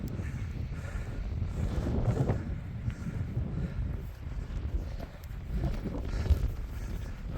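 Wind buffets the microphone in open Lake District hills, a loud continuous low rumble with gusty swells and no talking.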